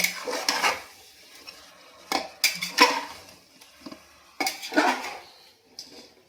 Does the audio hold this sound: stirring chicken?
yes